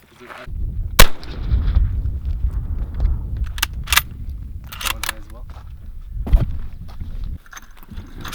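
Shots from a Mosin Nagant bolt-action rifle at an outdoor range, a loud sharp report near the start followed by further cracks a few seconds apart, with a voice talking in between.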